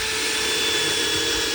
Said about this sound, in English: you make sure you set the drill at about 13.